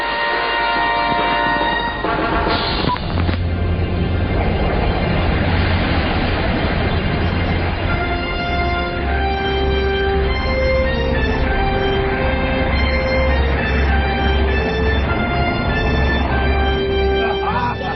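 The engines of the airship R101, five Beardmore Tornado eight-cylinder engines, drone in a loud, steady, layered tone as she departs the mooring tower, with sustained tonal hums under a dramatized soundscape.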